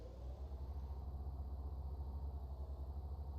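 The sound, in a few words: truck engine idling in video game Farming Simulator 19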